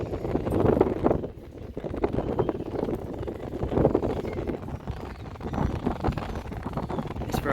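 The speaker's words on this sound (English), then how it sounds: "It's very windy here today in Brighton." Strong wind buffets the microphone on the coast at Brighton by the RNLI lifeboat station, a loud, continuous rushing roar with gusty surges and no talk.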